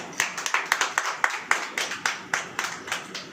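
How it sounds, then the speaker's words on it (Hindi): Hands clap in a slow, regular rhythm of about four beats a second at a church sermon, close and fairly loud, like a small congregation clapping together in time. "ताली नहीं बजेगी क्या?"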